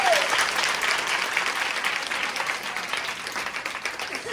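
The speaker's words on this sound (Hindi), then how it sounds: "इस वक्त प्रभु का वचन जोर से ताली हो जाइए।" An audience at a women's day prayer seminar breaks into loud, sustained applause, dense clapping that stays strong and slowly eases toward the end.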